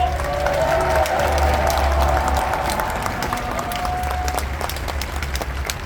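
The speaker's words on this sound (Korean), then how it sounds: "감사의 것으로 박수 한번 보내주십시오" Large crowd applauding at an outdoor national prayer rally near the National Assembly in Yeouido, Seoul, a dense continuous clapping that stays loud throughout, with a voice and faint tones mixed in underneath.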